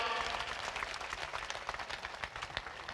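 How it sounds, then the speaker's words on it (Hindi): A crowd at a religious katha gathering applauds, a steady, fairly distant wash of many hands clapping without talk. "दोनों हाथ उठाकर जरा जोरदार ताली बजाओ भाई"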